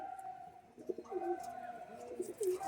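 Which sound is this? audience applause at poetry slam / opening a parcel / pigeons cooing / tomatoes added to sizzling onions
pigeons cooing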